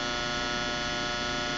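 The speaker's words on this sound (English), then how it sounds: "that's the dryer going" A household clothes dryer runs nearby with a steady, even hum and no change over the short stretch.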